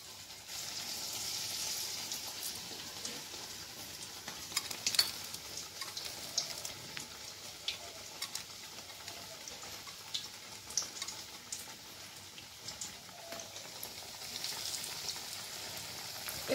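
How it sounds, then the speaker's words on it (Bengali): Cabbage pakoras frying a few at a time in hot oil in a small wok give off a soft, steady sizzle dotted with faint pops and occasional light clicks. "এবার এগুলোকে আমরা ভেজে নেব। আমাদের কড়াইটা ছোট, তিনটের বেশি ধরছে না।"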